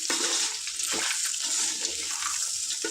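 Chunks of boti (goat offal) fry in a hot pan with a dense, continuous crackle and sizzle, heard close and fairly loud with no talking.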